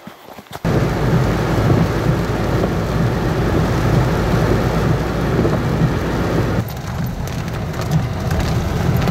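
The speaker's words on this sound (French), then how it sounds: "il pleut à mort" A heavy nighttime downpour roars steadily and loudly outdoors, a dense wash of rain with deep rumbling like thunder beneath it, starting abruptly and continuing unbroken.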